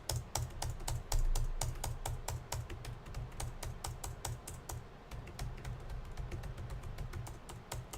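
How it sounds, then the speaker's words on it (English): Steady, rapid typing on a computer keyboard, close and clear, with a continuous stream of sharp key clicks and no talking. "like Alex, I'm typing"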